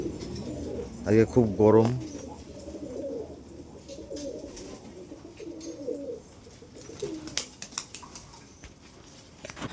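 Lotan pigeons give a short burst of throaty cooing early on, close and fairly clear, followed by softer scattered coos and shuffling while a person speaks briefly.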